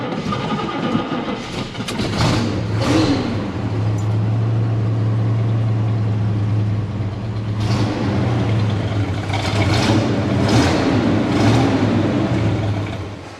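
A Chevrolet El Camino engine turns over and settles into a steady, loud idle, a low drone holding for several seconds, with a few faint knocks and rises as it runs.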